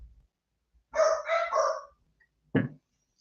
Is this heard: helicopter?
no